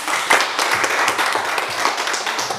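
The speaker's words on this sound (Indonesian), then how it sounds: "Kita tepuk tangan." Classroom of students clapping together after a teacher's praise, a dense steady patter of many hands lasting a few seconds with no speech over it.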